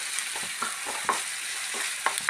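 Finely chopped onion and crushed garlic sauté in a pan on the stove, a soft continuous sizzle broken by several light scrapes and clicks of a stirring spoon, close and fairly quiet.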